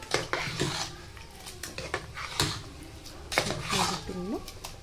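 A spoon scrapes and knocks against a metal pressure cooker while rice and mushroom mixture is stirred for biryani, giving repeated close clinks and scrapes with a faint voice underneath.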